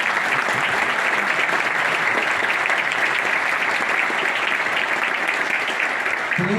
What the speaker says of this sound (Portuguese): eu queria pedir uma salva de palmas a toda a equipe da Estação Radio e da Full Eterna.